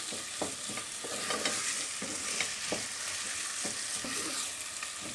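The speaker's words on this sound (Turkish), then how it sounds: "Evet bu şekilde kavurmak yeterli." Vegetables for a pea stew sauté in a pan, a continuous sizzle broken by regular scraping strokes of a utensil stirring through them, close and fairly loud with no voices.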